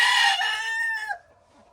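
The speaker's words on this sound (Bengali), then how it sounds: "এখানে আমার যেহেতু বত্রিশটা মতো মুরগি আছে" A native desi chicken on a small backyard farm crows once, loud and close, the drawn-out call tapering off into near quiet with faint background.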